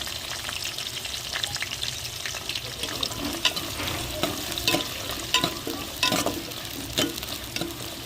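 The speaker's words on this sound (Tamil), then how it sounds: "வெங்காயம் வெள்ளை வெள்ளைப்பூடு பச்சை மிளகாலாம் வதங்கி வந்துருச்சு" Onion, garlic and green chillies sauté in a pan, steady loud sizzling with repeated spatula stirring clinks and scrapes, close up and continuous.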